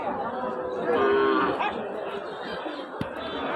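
Cattle moo at a livestock market selling Sahiwal, Nepali Gir, crossbred and local-breed bull calves; one drawn-out moo stands out over steady crowd chatter, followed later by a sharp knock.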